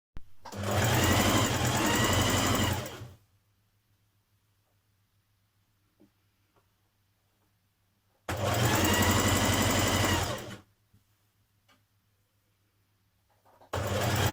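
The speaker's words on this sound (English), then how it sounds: "you're going to get to this point and you're going to back tack" A sewing machine stitches a back tack at the side vent of a New Look 6086 top, running in three loud bursts of steady whirring separated by quiet pauses, the last cut off at the end.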